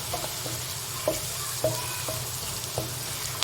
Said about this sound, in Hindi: साथ साथ हमारा प्याज भी ब्राउन हो रहा है